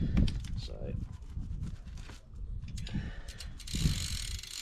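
A BMX bike pedal turned by hand to tighten it, producing a series of close ratcheting and clicking mechanical sounds with small clanks, while a voice speaks.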